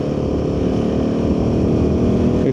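A Royal Enfield Himalayan 450 motorcycle is ridden off-road, its engine holding a steady, loud, buzzing drone close by with no real change in pitch.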